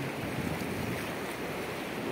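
Sea waves roll in at the beach in Labrador, Pangasinan, a continuous broad roar of surf mixed with wind buffeting the microphone, steady and fairly loud throughout.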